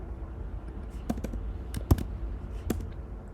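Computer keyboard being typed on, a quiet stream of light key taps with a few sharper clacks, close and alone without speech.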